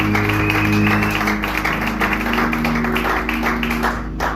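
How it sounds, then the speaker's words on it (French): A church congregation applauding and cheering the Lord during an evangelistic service, steady loud clapping over a sustained musical backing tone. "Est-ce qu'on peut acclamer le Seigneur?"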